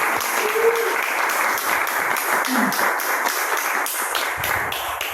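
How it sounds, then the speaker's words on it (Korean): Applause at a church seminar as a professor comes up, a full, steady patter of many hands clapping together, close and sustained, with a faint voice briefly audible underneath. "자, 우리 교수님 나오실 때 우리 큰 박수 하겠습니다."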